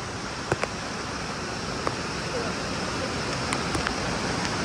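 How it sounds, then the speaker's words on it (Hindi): A waterfall near Singpura in Banswara, Rajasthan, gives a steady broadband rushing roar that fills the scene, with a few brief clicks and knocks from people moving nearby. "देखो गाइस वाटरफॉल देखो यहाँ पे"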